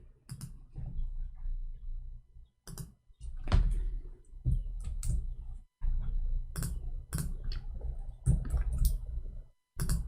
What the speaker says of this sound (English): I'm typing in Arabic, hold on.